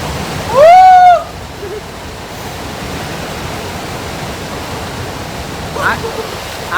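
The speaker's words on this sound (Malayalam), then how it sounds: "അതായിരുന്നു ഗല്ലു വാട്ടർഫാൾസ്." Gallu waterfall in Himachal Pradesh roars as a steady broadband rush that holds throughout, with a brief loud tonal whistle-like burst near the start.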